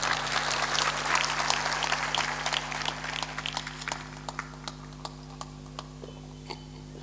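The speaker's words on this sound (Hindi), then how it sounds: "मुस्कुरा दो, ताली बजा दो बस" A live audience at a Hindu religious discourse in Soyatkala, Agar Malwa, Madhya Pradesh, claps in a fairly loud burst that thins to scattered sharp individual claps over a steady low hum.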